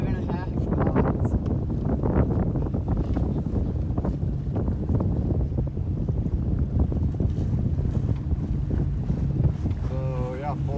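A sailboat under way in steady wind, with constant wind roar over the microphone and water rushing against the hull, while people talk throughout.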